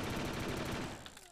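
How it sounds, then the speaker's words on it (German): Rapid automatic bursts from a Skorpion gun in the shooter game Brick Force, a dense rattling volley close and loud for about a second before cutting off into a short tail. "Die Skorpion ist eigentlich auch eine ganz schöne Waffe."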